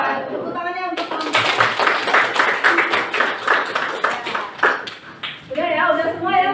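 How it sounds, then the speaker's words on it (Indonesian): A class claps for a student's finished classroom presentation, a burst of dense, close applause lasting several seconds, framed by talking at the start and as it dies away. "Tepuk tangannya untuk kamu."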